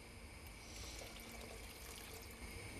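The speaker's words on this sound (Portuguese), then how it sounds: "Vamos completar com um pouquinho de água" A little water pours steadily into a pan of pre-cooked black beans and tomato, a soft continuous trickle and splash with no voices.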